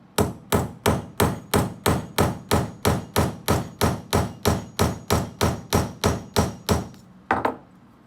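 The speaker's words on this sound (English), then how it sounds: "This is not the way that you're supposed to actually rivet because we don't have proper riveting hammers," An ordinary hammer strikes a flush rivet in a steady, rapid series of about twenty loud, sharp metallic blows, evenly spaced, then a short pause and one or two final hits.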